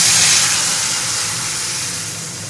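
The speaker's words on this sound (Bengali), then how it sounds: "সর্ষেটা ভালো করে ফোড়নটাকে ভেজে নিয়ে এবার ডালটা দিয়ে দেবো।" Dal poured into a hot pan of fried mustard seed tempering, giving a loud, steady sizzling hiss that slowly fades over a couple of seconds, with no voices.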